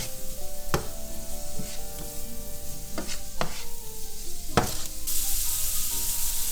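Apples with sugar and cinnamon sizzle in a pan while being stirred, a steady fry with several sharp scraping clicks of the spoon against the pan.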